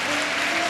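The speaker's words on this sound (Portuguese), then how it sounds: "eu gostaria que desse os aplausos para Jesus Cristo, porque Ele merece" A church congregation applauds steadily, a dense wash of many hands clapping at once, loud and unbroken throughout the short moment.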